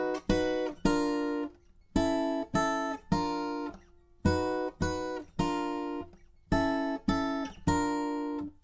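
Fingerstyle acoustic guitar plays a bar twice, plucked groups of notes ringing in a steady repeated pattern, close and clear with no talk.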